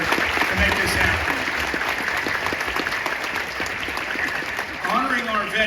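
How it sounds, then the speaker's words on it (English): Audience applause for the organizers of a Veterans Day program, a steady wash of many hands clapping throughout, with voices murmuring and talking underneath and a brief swell near the end. "let's give them a round of applause for the folks that worked so hard to make this happen"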